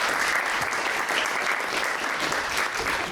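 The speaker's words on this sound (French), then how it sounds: "Alors, une bonne main d'applaudissements," An audience applauds the artist Brinty at a live improv show, dense steady clapping from a crowd, loud and continuous throughout.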